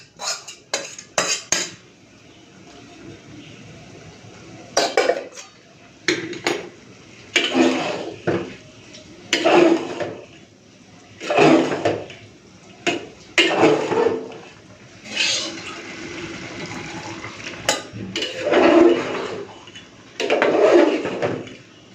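Spice paste being stirred into paneer khichuri in a pot, with a utensil scraping and clinking against the metal in repeated bursts, fairly close and separated by short pauses, with no talking.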